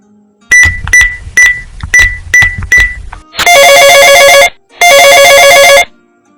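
In a cartoon, a few short electronic beeps, then two long, loud electronic telephone rings separated by a brief pause.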